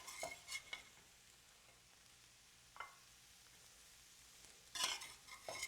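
Kale sautéing in a frying pan gives a soft, low sizzle with a few brief stirring scrapes and clatters of a utensil against the pan, faint and close, with no talking.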